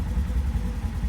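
A General XP off-road vehicle on 32-inch tires with Gilomen clutching idles close by, a steady low rumble with slight unevenness and no talking.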